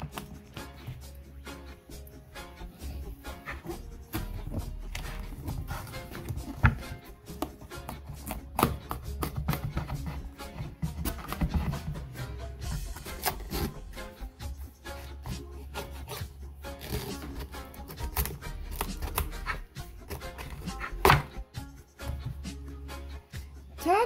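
A knife works through a spaghetti squash with dense, irregular scraping and crunching cuts, low thuds against the board underneath, and a rough rasping texture that continues close but fairly quiet throughout.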